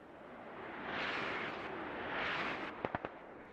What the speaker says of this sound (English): another smoke barrage in